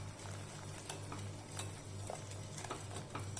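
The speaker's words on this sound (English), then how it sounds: "So after adding the cheese slices, we'll mix the sauce well." Pepper pasta sauce with melting cheese slices is stirred in a pan over a medium-high flame, a faint, steady bubbling sizzle with light scraping and occasional soft clicks of the utensil, no talking.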